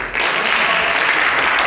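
Audience at a university presidential candidate debate in Daegu applauding the four candidates, a dense, steady wash of clapping that swells in quickly and holds loud and even throughout.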